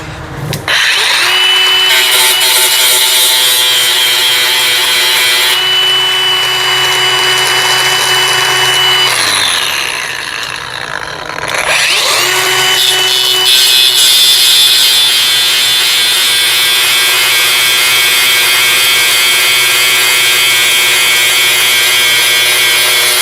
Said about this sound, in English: So I'll just grind this over here and see what it does.